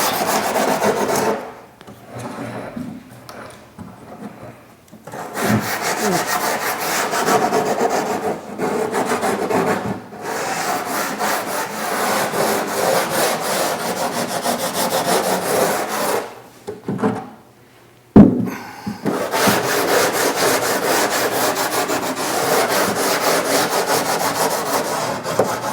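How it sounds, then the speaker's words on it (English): Coarse 36 grit sandpaper rasps over car body filler and panels during bodywork on a Mk4 build, loud and steady with repeated strokes, broken by a few short pauses and one sharp knock. "I've got some 36 grit on here right now, which is pretty aggressive sandpaper"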